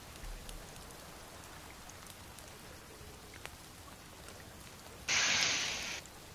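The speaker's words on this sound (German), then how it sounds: "Und es regnet immer noch." Steady rain hisses continuously in the survival video game The Forest, an even soft wash with a brief louder burst of noise near the end.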